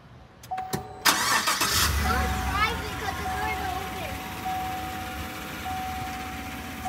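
A car engine cranks with a few clicks, then the starter whirs and the engine catches and settles into a steady idle with a faint whine, while people talk excitedly nearby.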